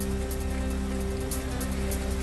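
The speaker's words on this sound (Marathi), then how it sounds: "भिवंडी शहरासह ग्रामीण भागात दमदार पाऊस" Heavy rain pours down across Bhiwandi city and its surrounding rural areas, a dense, unbroken hiss of falling water with a low steady hum beneath it.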